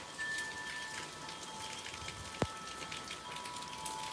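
Steady rain falls outdoors on a rainy morning, a soft, even patter of drops under a faint background hum, with one brief sharp tone cutting through midway.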